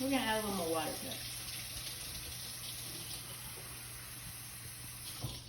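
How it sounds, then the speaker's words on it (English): Water runs from a kitchen tap, a steady soft hiss that lasts several seconds, as more water is added to dough; a voice speaks briefly at the start. "We're gonna add a little more water to it."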